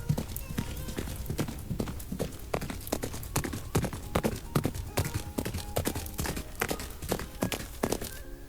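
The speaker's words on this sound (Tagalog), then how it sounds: "Sumakay si unggoy sa likod ni kabayo at masaya itong tumakbo ng mabilis" A horse running quickly with a monkey riding on its back, hooves clip-clopping in a fast, even, close rhythm of sharp knocks that carries on steadily throughout.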